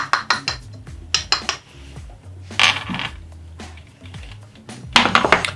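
Whisking pectin X58 into sugar in a bowl gives rapid metallic clinks and scrapes in uneven bursts, loud and close, with short pauses between them.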